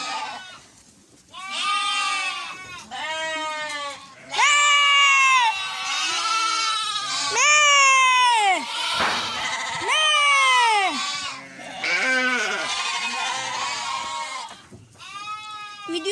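Several sheep bleat repeatedly in loud, overlapping calls while feeding on an evening ration, the cries coming close by one after another with only brief gaps.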